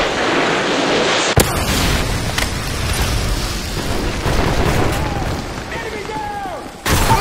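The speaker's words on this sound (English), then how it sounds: "Friendly predator missile inbound." Loud, dense blasts and rumbling gunfire from a predator missile strike in Call of Duty MW3, with a sharp bang near the start and a dense, continuous barrage that ends abruptly.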